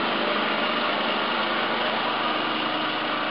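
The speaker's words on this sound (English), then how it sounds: "mowing the lawn." A lawn mower engine runs steadily and fairly loud from start to finish, a constant droning whine with no breaks and no voices.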